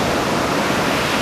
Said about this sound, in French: sur le Gloy il y a quand même des bonnes vagues qui passent